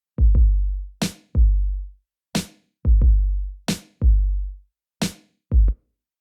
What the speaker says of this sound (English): we have our kick and snare, which sounds like this